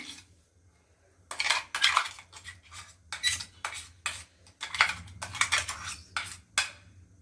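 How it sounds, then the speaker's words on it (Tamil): A spoon stirs almond paste into rasamalai milk in a pot over a low flame, giving irregular bursts of metallic clinks and scrapes against the pot, close and fairly loud, separated by short pauses. "ஸோ பாதாம் பேஸ்ட்டை வந்து நான் இப்போ கலக்கிறேன்."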